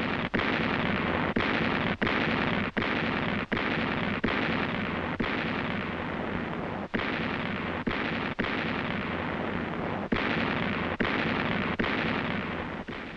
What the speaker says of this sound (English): To locate signs of Jap infiltration or counterattacks, the harassing fire was interspersed with illuminating fire.